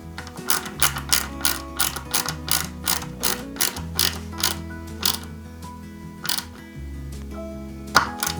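Screw being driven by hand into a 1/8 scale Mercedes-Benz 300 SL model kit, a steady series of close ratcheting clicks in regular bursts over a low hum.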